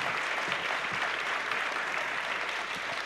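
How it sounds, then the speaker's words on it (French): A conference audience at a sovereignty round-table gives a brief burst of steady, dense clapping, heard close and evenly for about three seconds. "Merci de l'applaudir."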